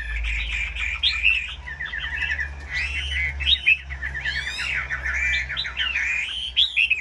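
A Chinese hwamei songbird sings a long, varied run of bright whistled phrases and trills, close and clear, over a low steady hum.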